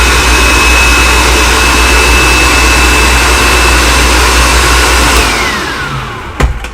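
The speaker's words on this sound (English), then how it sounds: "So it's going to be an easy bean, easy spin in the food processor here." Food processor spinning lentils for fermented hummus, a loud, steady, high-pitched motor whir running continuously before winding down and stopping near the end.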